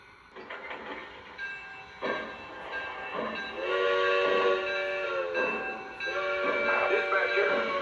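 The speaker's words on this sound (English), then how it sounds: "Dispatcher, train is outbound." A train rolling away with a steady rumble and clatter, and a horn sounding twice in the second half, louder toward the end.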